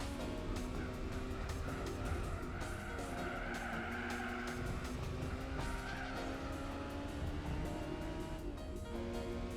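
Tires squeal and skid as a car snaps into oversteer in Gran Turismo 4, a stock Honda S2000 racing a 500 bhp Mercedes, with engine roar loud and continuous throughout.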